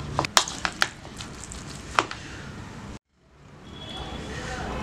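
Cauliflower and chicken patty ingredients being stirred together in a bowl, with several sharp knocks and squelchy mixing strokes, a brief pause, then softer continuous mixing.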